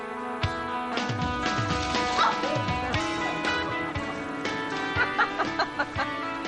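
A dog barks and yips in quick bursts over steady music in a backyard garden with apple trees, the barks loud and close.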